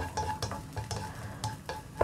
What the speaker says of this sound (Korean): 파를 살짝만 볶아줍니다.